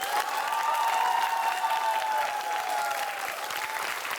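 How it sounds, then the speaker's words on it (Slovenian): Steady, loud applause from an audience at a school cooking contest fills the whole stretch, clapping continuously without pause. "zato so tudi spodbujeni z glasnim aplavzom."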